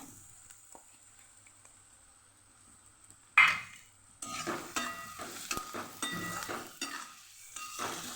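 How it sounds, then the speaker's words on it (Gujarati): Onions fry quietly in a pan until potatoes are dropped in with a sudden loud hiss. Sizzling and scraping stirring strokes then continue in uneven bursts. "આપણી ડુંગળી સરસ તતળાઈ ગઈ છે તો આપણે બટેકા ઉમેરી દઈશું અહીંયા"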